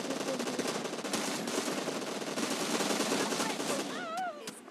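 Bursts of automatic gunfire in PUBG Mobile, rapid repeated shots fired in quick runs over several seconds, fairly loud and dense, ending in a short whooshing sweep.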